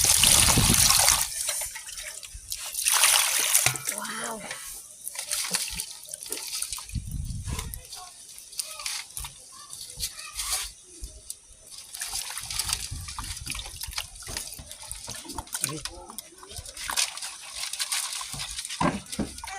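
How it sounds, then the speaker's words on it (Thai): Water runs and trickles from a tap while fish is washed for a Lao-style fish salad (koi pla), with splashing and dripping throughout, fairly close, and a few brief louder gushes. "แม่น้องโซกไปล้างปลาก่อนพี่น้อง"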